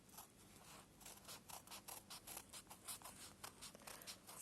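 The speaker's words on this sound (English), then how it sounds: "now I'm going to cut it as well" Scissors snip through the double-folded edge of fabric being cut for a textile stencil, giving a series of soft, close, irregular crunching cuts and rustles, quiet and without talk.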